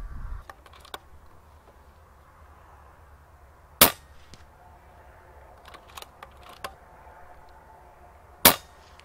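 Two sharp, muted cracks of a PCP air rifle fitted with a Wrangler Phenom moderator ring out several seconds apart outdoors, with a few lighter clicks and faint ambient noise between them.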